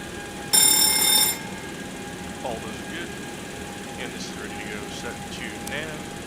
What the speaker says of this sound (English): TCAS test. Pass.